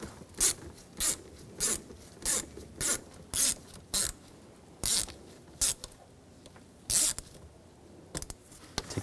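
A T25 socket ratchets screws out on a 2007-2013 BMW X5 3.0L during an oxygen sensor replacement, giving a series of short, sharp, close rasping clicks in irregular bursts.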